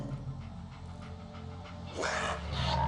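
Dogmeat, the canine companion in Fallout 4, pants and whimpers close by over a low game ambience, the breathing growing louder and brighter near the end.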